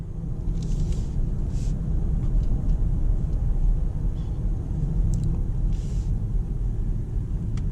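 BMW i4 M50 electric car accelerating on a four-lane road, heard from inside as a steady low rumble of road and tyre noise with faint high whine accents, moderately loud and without talk.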